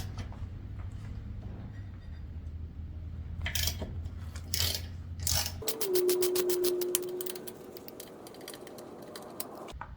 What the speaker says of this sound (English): the bolt underneath here is going to be a 15 millimeter ratchet